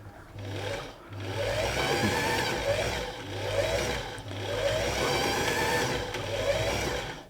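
Australian Singer 328P sewing machine, a thrift-shop find under restoration, running in three steady whirring bursts with a low motor hum and rapid mechanical chatter, separated by brief pauses, close and without talk.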